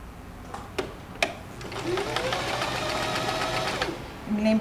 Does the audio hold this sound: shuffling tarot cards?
no